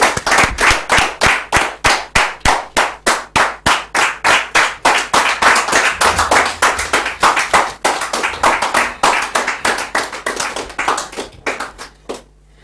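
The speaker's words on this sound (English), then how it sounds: "Can we welcome him with a round of applause?" Audience clapping welcomes a speaker to the podium at an evening discussion on the crisis in Congo, a steady run of close, distinct handclaps throughout with no talk, tapering off at the end.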